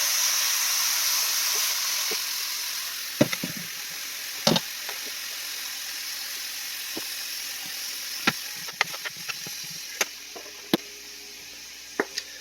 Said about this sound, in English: Basically just frying these mushrooms up.